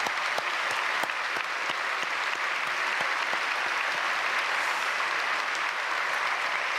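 A church congregation at a joint Korean church worship service marking the national liberation anniversary applauds steadily and densely for the whole stretch, a sustained wash of many clapping hands with no voices over it.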